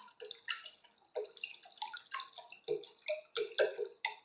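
Water is poured into a vessel in short bursts, giving close, irregular gurgling splashes and drips that come in uneven clusters, with no talking.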